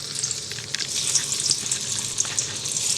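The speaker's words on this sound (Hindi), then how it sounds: "इसको हम अभी लोहे की कढ़ाई में फ्राई करेंगे।" Paneer cubes fry in an iron kadai with a steady close hiss and crackle of hot oil, light bubbling and occasional stirring, no talk.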